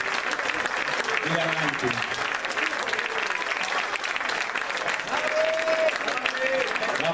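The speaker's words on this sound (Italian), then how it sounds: "Vieni a prendere questi applausi." Audience applause fills a Christmas concert hall, steady clapping from a large crowd throughout, with a voice speaking over it at the start and faint musical tones near the end.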